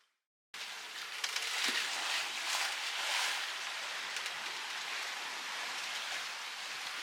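Rain falls outside a sailboat crossing the Pacific Ocean, a soft, steady hiss with faint patters, heard from inside the cabin after a moment of silence, with no voices.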